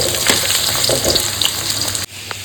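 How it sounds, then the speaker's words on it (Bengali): Thin-sliced potatoes fry in hot oil in a home kitchen, a steady crackling sizzle with brief stirring scrapes, loud and close until it drops off abruptly near the end. "এবার এই পাতলা পাতলা করে আলু কেটে নেবে, এই আলুটা ভেজে দেবো"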